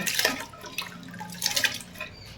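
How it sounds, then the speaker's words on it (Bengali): Washed rice poured into a pot of water for home-style egg biryani, giving a close, splashy rush of water with a couple of louder swells and no talking. "এই ধুয়ে রাখা চালটা এর মধ্যে দিয়ে দেব"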